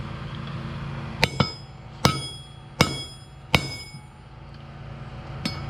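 Hammer blows driving wheel studs into a Can-Am rear hub during a portal gear install, about six sharp metallic strikes in an uneven rhythm, close and fairly quiet against a low background hum.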